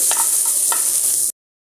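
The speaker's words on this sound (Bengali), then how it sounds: "পেঁয়াজটা আমার হালকা কমলা কালার করে ভাজা হয়ে গেছে।" Onion and green chili frying in mustard oil, a bright hissing sizzle with a few soft stirring scrapes, close and steady for just over a second before cutting to silence.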